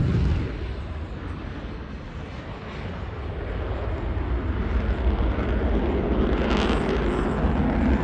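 A military jet, likely a Sukhoi Su-57, takes off at an air show with a loud, steadily building engine roar that swells toward the end, and a faint voice occasionally sounds underneath.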